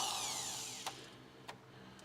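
A power drill bit cuts into a spot weld on a car body seam of a crew cab Charger, its whine slowly winding down, with two sharp clicks or catches afterward.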